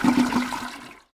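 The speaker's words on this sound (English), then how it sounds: "hoping to hear a toilet flush sound" A video game toilet flush sound effect from You Don't Know Jack, a rushing gurgle of water that fades out quickly, short and close.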